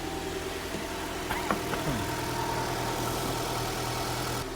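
A 2005 Nissan Altima engine idling steadily as it warms to operating temperature, a continuous low hum with a faint rattle and a brief tonal whine partway through, heard up close outdoors.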